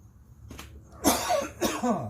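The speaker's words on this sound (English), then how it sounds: "Cough." A couple of rough coughs sound close by, one sharp burst followed by a second, with quiet room noise before.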